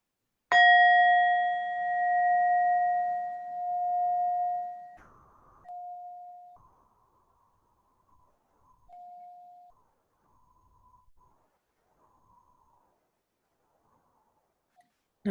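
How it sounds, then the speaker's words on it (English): Meditation bell struck once at the start of a session, a clear loud ring that sustains and slowly decays over several seconds, followed by fainter lingering tones and near silence. "We will begin with the sound of the bell."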